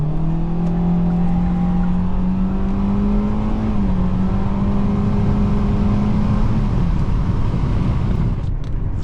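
A 2024 Kia Seltos with all-wheel drive and a CVT transmission accelerating at night, heard from inside as a steady, droning engine hum whose pitch rises smoothly without gear shifts over road noise.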